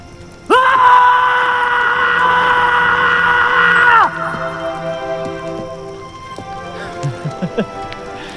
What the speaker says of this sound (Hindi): कभी जिंदगी में चीखे आप? आइए, आज गला फाड़ के जिंदगी को बोल देते हैं